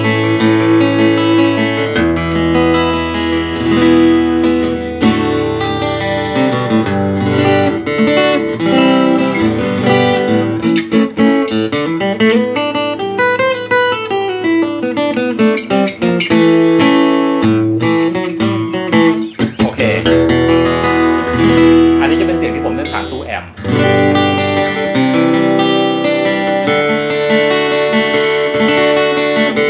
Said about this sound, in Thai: อันนี้เป็นเสียงที่ผมเล่นผ่านตู้แอม ผมชอบเล่นแบบนี้มากกว่า